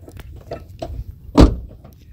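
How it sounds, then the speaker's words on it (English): A car door slams shut once, loud and close, on a vehicle pulled off the road with a flat tyre after hitting a pothole in rural Lesotho, preceded by a few soft knocks and rustles. "Let me close this door."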